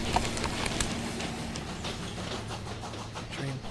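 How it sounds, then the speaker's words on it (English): A train runs along rails with steady, rhythmic clattering wheels over a continuous dense rumble, loud and sustained throughout. "the train plows through you"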